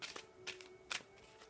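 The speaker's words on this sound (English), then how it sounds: "I'm going to shuffle and pull Colette Baron Reid's Enchanted Map" Oracle cards from an Enchanted Map deck are shuffled in a few quick, soft riffling bursts, faint and close, with short pauses between them.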